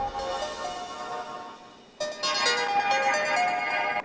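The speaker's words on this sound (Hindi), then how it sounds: "लो, भाभी का फोन आ गया।" A phone rings with an incoming call, a steady melodic ringtone that jumps louder partway through and keeps repeating, close and clear with no talking.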